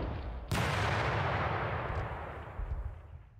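A loud artillery blast erupts in the Panzer Campaigns Bulge 44 video game, followed by a sustained low rumbling roar that slowly fades with some later swells, with no talking.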